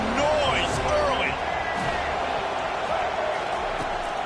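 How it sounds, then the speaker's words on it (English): Steady stadium crowd roar from an American football video game, with a broad constant din and occasional whistles and shouts rising above it, under faint voices. "This crowd bringing the energy and noise early."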